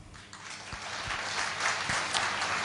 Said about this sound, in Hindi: तो एक बार फिर अपने लिए तालियां।